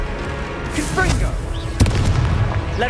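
A Confringo fire spell bursts in Hogwarts Legacy combat: one sharp, loud blast lands about midway through, set among other spell effects and voices in the fight.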